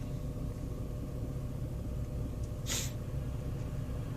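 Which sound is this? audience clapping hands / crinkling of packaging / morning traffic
morning traffic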